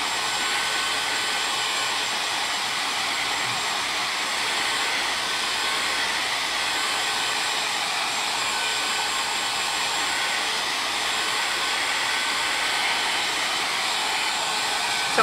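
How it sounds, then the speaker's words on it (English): A hair dryer blows steadily at close range while drying a wood finish on a vintage wooden planter, a continuous even whooshing hum without pause. "I'm gonna take my hair dryer again."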